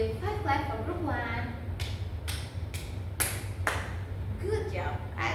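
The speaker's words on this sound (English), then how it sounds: "Please give 5 clap for group 1." Children in a third-grade classroom clap together five times in a steady rhythm, crisp and close, with an adult speaking briefly before and after.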